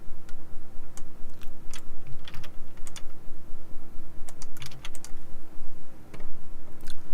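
Computer keyboard typed on quickly while entering a homepage link, a dense run of close clicking keystrokes over a steady hum, with no one talking.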